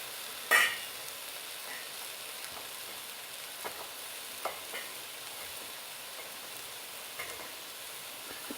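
Bell pepper pasta being stirred in a pan, a quiet steady sizzle with a sharp scrape near the start and occasional light clinks of the utensil scattered through.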